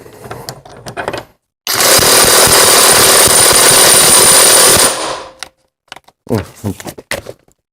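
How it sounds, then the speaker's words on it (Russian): A KAMOLEE DTW500 cordless impact wrench hammers a nut tight in one loud, continuous rattling burst of about four seconds, with softer clicks and handling noises before and after. "Доведу гайку руками плотно и дожму уже нашим гайковертом."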